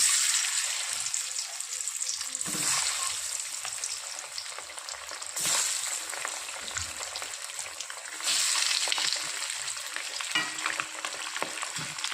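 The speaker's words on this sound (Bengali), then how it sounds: "তেল গরম হয়ে গেছে, এবার ডিম ভেজে নেব।" Eggs frying in hot oil: a continuous close sizzle with hissing spatter swelling in a few louder surges, and no voices.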